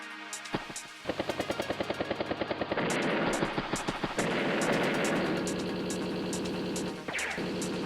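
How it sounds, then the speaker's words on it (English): A battlecopter attacks a tank in Advance Wars: Days of Ruin: a rapid run of rotor-like chopping bursts and gunfire pulses gives way to a dense, sustained game-effect roar, with no speech. "Now let the battlecopter charge forward, picks off a tank there."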